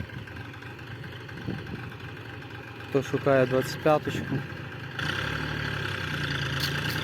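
An old KhTZ 3512 tractor engine idles with a low steady rumble while someone speaks briefly over it; the engine note shifts slightly toward the end.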